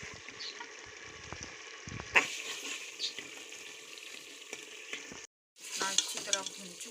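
Potatoes with tomatoes and spices, including crushed dried coriander, fry and sizzle steadily in a pan, with a spoon stirring and scraping now and then; the sizzle runs continuously and close, with a brief break near the end.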